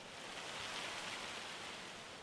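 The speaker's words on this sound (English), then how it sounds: "It's raining." Rain falling in a farming video game, a soft, even hiss of steady rainfall with no other sounds.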